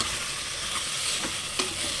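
Tomato sizzles in a hot pan as it is stirred, a bright steady hiss with a few soft scraping strokes over two seconds.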